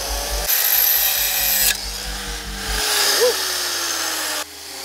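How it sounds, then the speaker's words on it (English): A power grinder cuts down a metal stud during an LS engine swap into an old vehicle, giving a loud, steady high-pitched whine with a low motor hum underneath, running close up for several seconds before stopping. "I may just need to grind that stud down just a little bit"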